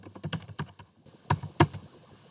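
Keystrokes clatter on a computer keyboard in quick irregular bursts, then pause before two louder, isolated taps near the end, close and clear with no voices.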